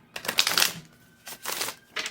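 Tarot cards being shuffled in three short bursts of riffling and rustling, close and fairly quiet, with pauses in between and no talking.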